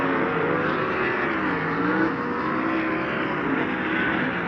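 Sprint cars racing around a dirt track at a preliminary event, engines roaring steadily and loudly with overlapping whining revs as the pack circles, a continuous mechanical drone with no pauses.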